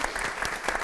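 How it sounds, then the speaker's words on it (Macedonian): A studio audience claps in a brief, dense burst of applause from a crowd, steady and fairly loud throughout with no voices over it. "Јас би сакала еден голем аплауз за ово прекрасно."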